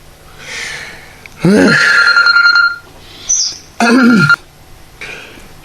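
A telephone rings in two loud bursts separated by a short pause, the electronic tone clear and close, with brief faint sounds in between.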